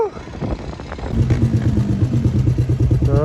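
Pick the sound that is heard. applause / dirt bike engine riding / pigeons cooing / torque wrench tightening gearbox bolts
dirt bike engine riding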